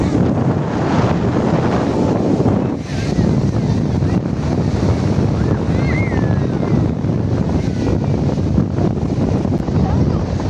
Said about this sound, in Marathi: हे पण समुद्र खूप छान आहे.